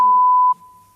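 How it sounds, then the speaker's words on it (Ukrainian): A censor beep sounds as a single pure loud tone held for about half a second, used to bleep out swearing, then cuts to near silence. "автоматичний запікувальник матів у нас є"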